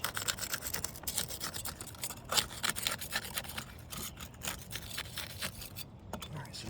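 Asphalt roof shingles are pried loose from their sealant strip during repairability testing, making close scraping, rubbing and crackling rasps in short uneven bursts, with faint talk nearby.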